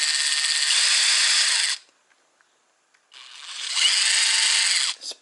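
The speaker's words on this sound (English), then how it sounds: "Very carefully I loaded into my drill without damaging the piston. Give it a spin." A power drill spinning an air rifle piston whirs at high speed, stops for about a second, then spins up again for another steady run before cutting off.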